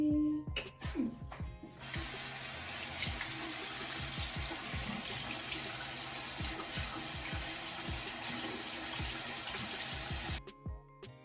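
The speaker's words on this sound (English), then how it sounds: "I'm gonna go ahead and rinse this out of my hair" Tap water runs in a steady, hissing stream while product is rinsed out of hair, close and continuous for several seconds, with a few handling clicks at the start and end.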